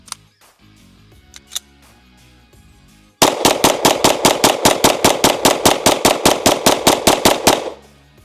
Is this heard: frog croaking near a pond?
no